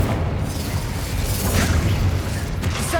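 Confringo spell explosions in the video game Hogwarts Legacy, dense loud booming blasts and crackling bursts that run continuously through a chaotic battle.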